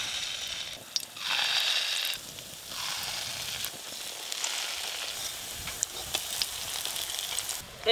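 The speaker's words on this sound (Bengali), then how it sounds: "সর্ষের তেল, তেল গরম হয়ে গেছে, এবার বড়া করে ডিমগুলো সব ভেজে নেবো।" Egg fritters fry in hot mustard oil, a steady close sizzle and crackle with occasional stirring sounds and brief pops, no talking.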